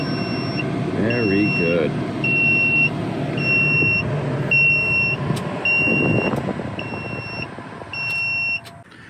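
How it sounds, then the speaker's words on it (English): Repeated short electronic beeps from a low voltage alarm sound at a steady rhythm over a running vehicle hum, a 1975 Volvo 164 converted to electric, with a brief spoken remark partway through. "low voltage alarm works"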